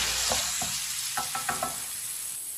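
Masala spices cook in hot oil over a low flame, giving a steady close sizzle broken by several soft scraping stirs of a spoon against the pan.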